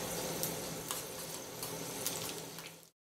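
Lentils hit hot oil for tempering, a Tamil seasoning step in making sorghum paniyaram. A steady, close hiss and crackle runs throughout with scattered pops, then cuts off abruptly near the end.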